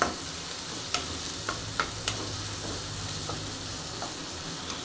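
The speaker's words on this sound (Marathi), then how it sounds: "धना पावडर आणि हळद ही टाकून घेणार आहे छान असं मिक्स करून घेते" Coriander powder and turmeric are stirred into a frying bottle gourd curry, with a soft, steady sizzle and occasional light clinks and scrapes of a spoon against the pan, up close and without speech.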